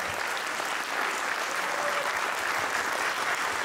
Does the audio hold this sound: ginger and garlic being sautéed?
no